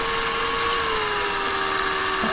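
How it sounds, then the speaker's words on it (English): A small power drill whirs steadily at a constant high pitch while boring a pin hole into a miniature figure, close up and continuous without talk. "I want the pin to be as deep as it can be, so I'm going to drill in as far as I can there."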